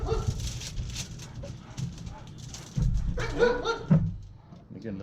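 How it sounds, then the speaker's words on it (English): Neighbor's dog near a drum smoker cooking ribs outdoors, giving short whimpers and yips amid scattered clatter and background noise, with people talking. "Got the neighbor's dog smelling the ribs."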